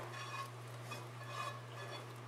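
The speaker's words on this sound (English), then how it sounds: "Stir the sauce and meat in together." Chili meat and sauce stirred together in a crock pot: soft, faint, wet scraping and squelching in slow strokes over a steady low hum, without any talk.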